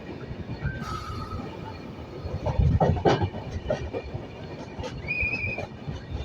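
A train rumbles along hill-country tracks near Araku with rhythmic clacking of wheels, a brief metallic squeal rising midway, heard from a moderate distance.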